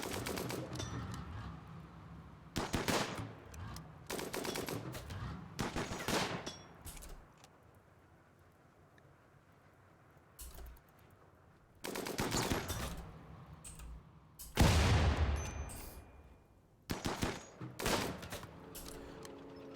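Bursts of video-game gunfire from RimWorld, tribal combat in a heavily modded playthrough, come in several loud separated volleys with quieter gaps of ambient game sound between them.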